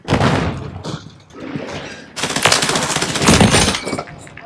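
Explosions and crashing blasts from a grenade thrown in a multiplayer shooter game while levelling the Rival-9, two loud bursts with debris-like crackle, the second longer and denser.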